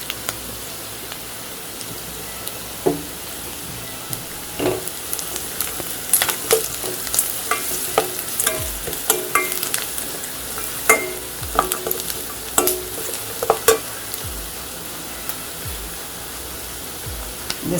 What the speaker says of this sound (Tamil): வெங்காயம் வதங்கிருச்சு. கொஞ்சம் மஞ்சள்தூள் சேர்த்துக்கலாம்.